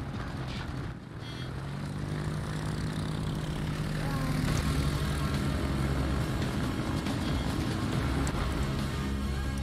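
A fighter plane's propeller engine in the video game World of Warships drones steadily, a loud low-pitched hum that swells slightly and holds throughout.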